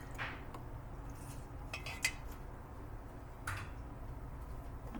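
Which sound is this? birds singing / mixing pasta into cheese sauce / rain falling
mixing pasta into cheese sauce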